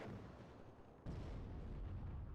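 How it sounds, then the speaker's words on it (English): Artillery shells land in the WARNO military strategy game, a low rumbling barrage that jumps sharply louder with a heavy impact midway, then keeps booming. "As artillery is raining in here onto the OSAS and the BMP-3."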